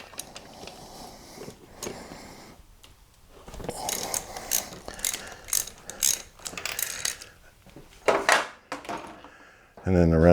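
A ratchet wrench with a swivel turns a bolt on a Pontiac Grand Prix LS4 engine, giving bursts of clicking and mechanical rattling in short sets. Tool clatter and a voice are heard throughout.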